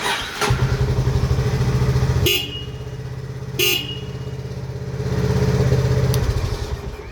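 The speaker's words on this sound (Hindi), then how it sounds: "तो हॉर्न की आवाज़ अच्छी है" A Honda CB350 motorcycle horn blares loudly in a long steady tone, stops, gives a brief toot, then sounds again for a couple of seconds over an idling engine.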